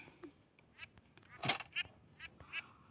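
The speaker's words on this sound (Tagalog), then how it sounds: "Bakit may duck?" Ducks quack in the video game Minecraft, with several short nasal honks scattered over a few seconds and one louder, longer squawk in the middle, close but fairly quiet.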